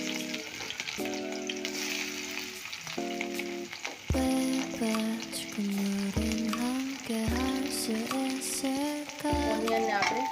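Sliced onions hit hot oil in a pan while mixed veg paneer is being cooked, giving a steady crackling sizzle with stirring scrapes, overlaid by a melodic background music track with repeated tones.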